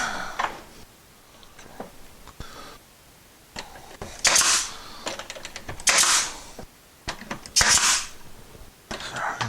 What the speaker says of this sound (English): we're gonna shoot the brad